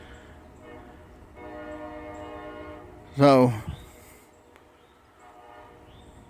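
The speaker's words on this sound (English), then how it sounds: "they got that loud horn and they sound like a dinosaur coming" A locomotive train horn sounds a long, steady blast of moderate loudness, followed by a sharp louder burst as a voice briefly cuts in, then fades.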